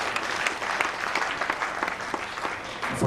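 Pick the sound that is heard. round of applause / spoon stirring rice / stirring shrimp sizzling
round of applause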